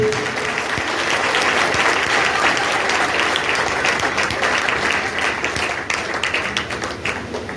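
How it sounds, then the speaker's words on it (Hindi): A church congregation at a thanksgiving prayer service claps loudly and continuously to thank God, a dense, sustained burst of many hands that tapers slightly near the end. "हाथों को उठाएं और बार जोर से ताली बजाएं और प्रभु को धन्यवाद दें"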